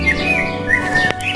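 Cartoon baby birds just hatched from their eggs chirp in high, thin tweets over a soft musical backdrop, close and bright, with a short sharp click near the end.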